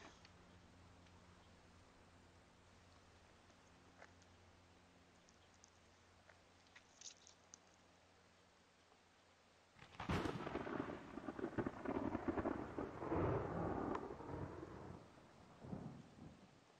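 Stormy weather in the X-Plane 11 flight simulator starts with a faint steady hum and scattered light ticks, then bursts into loud rumbling thunder and heavy rain that roll on for several seconds before easing slightly.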